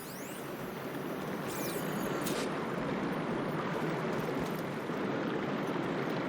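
Steady water flows and rushes inside a room in Horizon Forbidden West, a continuous broadband wash that holds at an even level from start to finish with no one speaking.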